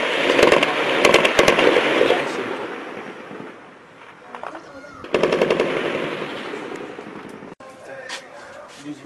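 Heavy artillery shelling and rapid gunfire pound the Deir Baalba district of Homs in 2011, with dense rattling bursts that pause briefly and then resume, loud and continuous, and voices are mixed in underneath.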